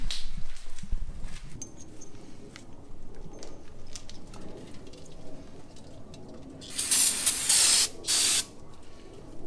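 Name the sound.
spraying cleaner on a new brake rotor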